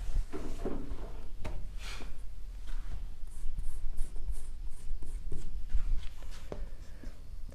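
Marker or chalk writing on a board, with close scratchy strokes and light knocks scattered through steady room noise, no talking.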